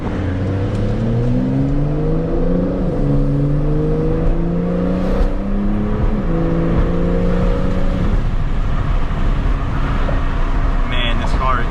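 Porsche 911 Carrera 4 GTS revving hard through paddle-shifted gears, engine pitch climbing in repeated rising sweeps that drop at each shift, loud and close from inside the cabin, with someone speaking over it.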